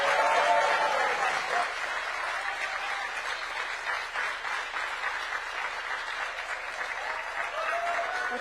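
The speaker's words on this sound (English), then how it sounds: "Please give Aisha a big round of applause." Conference audience at a summit claps steadily for a moderator, a dense, sustained round of applause that follows a voice at the start and runs on for several seconds.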